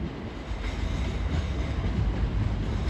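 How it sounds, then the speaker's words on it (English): A C2C train pulls into a London terminus, arriving to terminate, with a steady low rumble of wheels and carriages throughout, close and continuous. "Incoming now will be a terminating C2C service from Charing."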